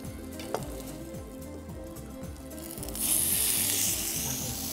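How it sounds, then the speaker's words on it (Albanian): Marinated meat sizzles in a frying pan, a steady hiss over a low rumble that swells louder and brighter partway through. "Do japim pak në tigan."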